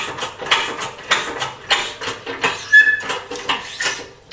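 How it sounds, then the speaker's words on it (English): Grizzly air/hydraulic shop press cranked by hand while straightening a part, giving a steady series of close ratcheting mechanical clicks and clunks with a brief metallic squeak partway through. "Now once again, I have to crank by hand, otherwise we'll be here all night long."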